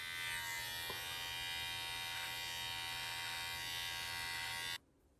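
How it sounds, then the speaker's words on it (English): An electric shaver buzzes steadily and fairly close for several seconds at an even pitch, then cuts off abruptly, leaving near silence; no one speaks. "do you guys all shave like this?"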